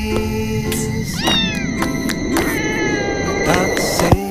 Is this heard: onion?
no